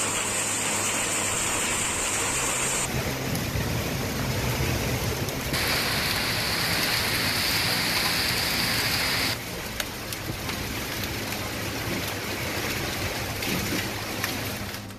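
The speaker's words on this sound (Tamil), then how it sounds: "வேலூர் மாவட்டம் சத்துவாச்சாரியில் சூறைக்காற்றுடன் பெய்த ஆலங்கட்டி மழை." Steady, dense rain with strong wind during a hailstorm in Sathuvachari, Vellore district. It roars continuously and loudly from start to finish, with no voices.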